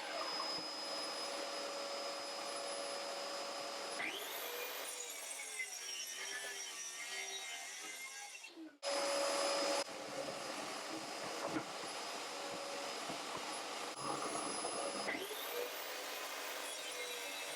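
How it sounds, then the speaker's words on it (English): A track saw with a scoring function cuts thin-veneered plywood panels: a loud, continuous motor whir runs throughout, with a brief dip near the middle before the cutting resumes. No voices. "I started cutting down some red temp plywood panels for my mobile miter station build"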